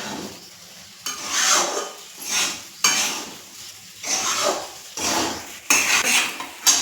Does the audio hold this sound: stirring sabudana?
yes